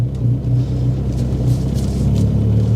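Cheap used Mini Cooper S with a worn, high-biting clutch driving along, a steady low engine rumble with a strong drone throughout, close and fairly loud, no talking.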